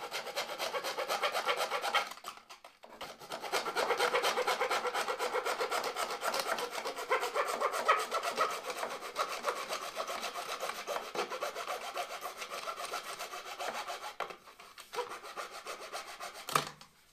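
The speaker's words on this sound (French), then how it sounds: "tu prends la lame de scie." Hacksaw blade cutting through 100 mm PVC drain pipe, a close, loud, continuous rasping of repeated strokes with short pauses, no voices over it.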